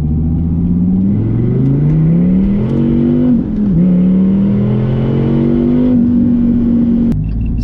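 A Dodge Viper Gen V with a 640-horsepower V10 accelerates hard, its loud engine note climbing steadily in pitch across several gear pulls, ending with a sharp shift near the end.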